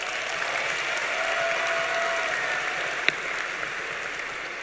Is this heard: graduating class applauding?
yes